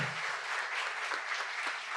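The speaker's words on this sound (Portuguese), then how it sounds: "Palmas para Cacá Rezende, viu" Audience applause at a talk, a continuous even wash of clapping from a hall full of people, fairly loud and uninterrupted for two seconds.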